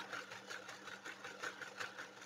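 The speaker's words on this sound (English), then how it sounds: "I hope you can hear me over the sewing machine." A domestic sewing machine runs steadily for a junk-journal craft project, its fast even stitching hum with a rhythmic pulse continuing throughout, close and fairly loud, with no talk over it.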